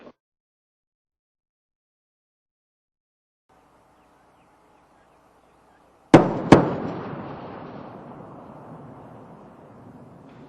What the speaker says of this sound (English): Twin sonic booms heralding Atlantis' arrival at the Florida spaceport.